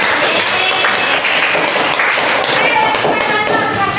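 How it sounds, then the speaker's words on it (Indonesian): A classroom group claps steadily and loudly together, with dense overlapping hand claps and light taps throughout, and some talking mixed in. "Bagus, tepuk tangan."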